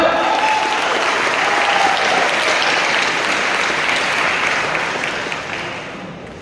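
Maritime academy cadets in a lecture hall break into dense, sustained applause, loud and even throughout before easing slightly toward the end.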